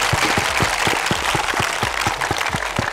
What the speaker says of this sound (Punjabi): ਇੱਕ ਵਾਰੀ ਆਪਾਂ ਆਪਣੀ ਮਾਂ ਦੇ ਲਈ ਜ਼ੋਰਦਾਰ ਤਾੜੀ